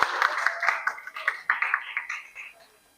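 Teachers in a debate-finals audience clapping for themselves, a scattered patter of hand claps that thins and fades out toward the end, with a voice speaking over it.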